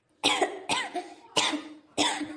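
Four harsh, close coughs from an older woman in a village home, evenly spaced in quick succession with short pauses between, no speech around them.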